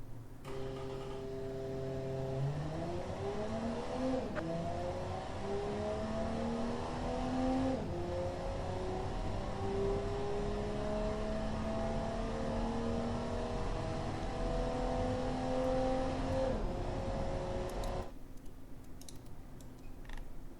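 A 1974 Athena HS1 hatchback in the Automation game accelerates hard through several gears, its engine note climbing, dropping at each shift and climbing again, loud and steady, before cutting off sharply near the end.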